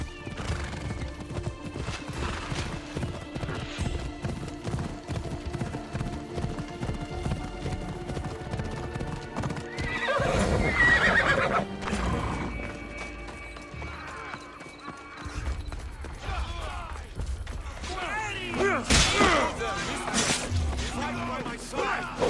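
Horses in the Assassin's Creed video game gallop with steady clip-clop hooves and repeated loud whinnies, under battle shouts and a game soundtrack.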